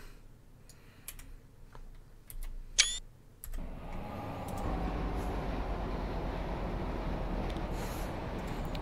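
A train runs in a train simulator game on the Midland Main Line: a few faint clicks and ticks give way to a steady, low rolling rumble that continues evenly, with no talk.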